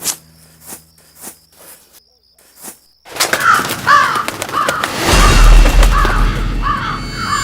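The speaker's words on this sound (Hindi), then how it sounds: "कौओं की आवाज" Several crows caw harshly in a dramatized night scene, first a few sharp isolated calls over near silence, then a sudden dense burst of overlapping caws under a loud rumbling noise bed.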